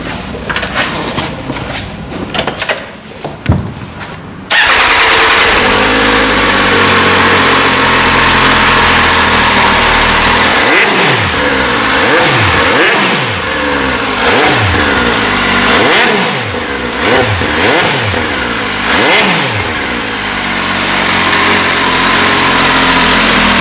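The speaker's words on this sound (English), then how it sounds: "So this is the sound of the F3675R." An MV Agusta F3 675R motorcycle engine roars loud and close, with repeated sharp revs climbing and falling over a constant idle, after a few seconds of rougher rumbling, no talk.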